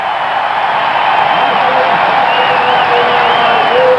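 A football stadium crowd at a 1989 CFL West Semi-Final between Saskatchewan and Calgary roars steadily and loudly after a quarterback sack, a broad sustained cheer with some whistles rising through it.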